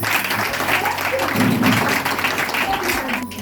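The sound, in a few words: audience applause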